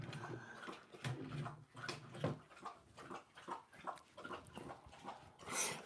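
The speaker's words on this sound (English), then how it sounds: "He's a half German short-haired pointer and half chocolate lab." Half German shorthaired pointer, half chocolate lab dog whimpering softly indoors, a series of faint, irregular whines and snuffles spread across the moment.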